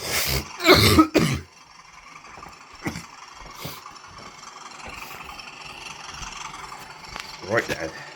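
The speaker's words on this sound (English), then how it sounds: "Excuse my cough, pardon me" A man clears his throat and coughs harshly up close, with a loud burst at the start and a few quieter rasps later, beside a running model railway layout.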